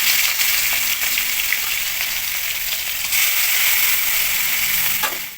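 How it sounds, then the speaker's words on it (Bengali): Prawns frying in hot oil, giving a loud, steady close sizzle with a constant hiss that only fades away at the very end. "এখন আমি চিংড়ি মাছটা ভেজে নেব।"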